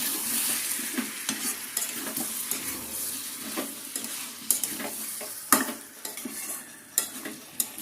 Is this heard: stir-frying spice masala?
yes